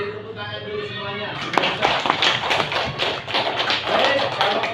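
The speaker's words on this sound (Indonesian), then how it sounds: "beri tepuk tangan dulu semuanya" Schoolchildren in a class-three maths lesson break into a dense burst of clapping that runs to the end. A teacher's voice is heard just before it starts.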